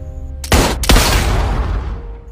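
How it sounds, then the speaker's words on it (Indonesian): Two loud gunshots ring out in quick succession in an action film scene where henchmen are shot, each a sharp close blast followed by a long, booming, reverberant tail that fades slowly. "Rotika pun pergi ke tempat itu dan menembak mati kedua anak buahnya tersebut"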